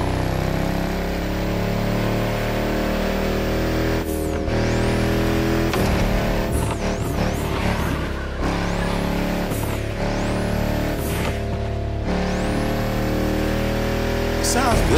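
A Volkswagen Touareg build in The Crew Motorfest racing game, its engine revving hard and climbing through gears with rising whines and abrupt drops at each shift, loud and continuous, with speech layered underneath.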